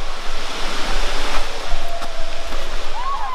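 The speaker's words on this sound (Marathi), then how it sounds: "तुम्ही पाठी बघू शकता देवकुंड धबधबा" Devkund waterfall in the Sahyadri hills roars as a loud, steady rush of falling water that fills the whole scene without pause.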